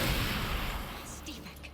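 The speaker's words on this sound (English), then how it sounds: "Nothing a hand cannon shot to the face can't fix." A single hand cannon blast in the Resident Evil Requiem video game, a loud booming shot at the start that decays into a rumbling tail, with a voice talking over it.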